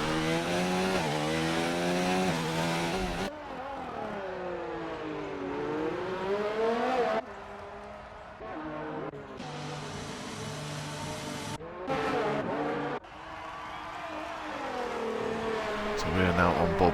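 Race car engine in a racing video game at Monaco, a single car on a hot lap, revving high and shifting repeatedly as it climbs and drops through the gears, loud and close with commentators talking over it.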